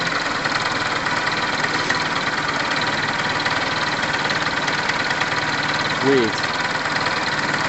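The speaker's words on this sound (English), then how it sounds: "I'm just trying to work out the idle and stuff, but still got that slight rev" A Tamoretti kit car's engine idles steadily with a continuous low rumble, rising briefly in a slight rev near the end; someone speaks a word over it.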